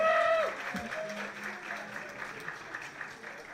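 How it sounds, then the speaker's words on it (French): An audience applauds young talent groups at a demo session, steady clapping spread across the room at moderate level after a brief voice opens the moment. "On les applaudit, on les encourage bien fort."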